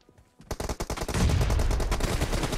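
Video game gunfire, a rapid burst of sharp shots that starts after a brief quiet lead-in and builds into a dense, loud rattling volley that keeps going to the end.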